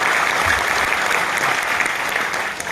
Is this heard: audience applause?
yes